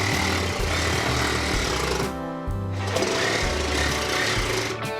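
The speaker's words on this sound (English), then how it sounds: "we cut out the excess OSB" A power saw cuts excess OSB sheathing out of a framed window opening in a shop attic, a loud, steady buzzing drone that runs nearly continuously with a brief dip partway through.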